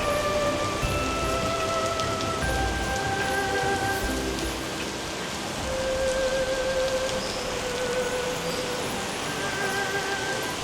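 Steady rain falling on surfaces in Taiwan, a dense even patter that holds at a moderate level throughout with no voices.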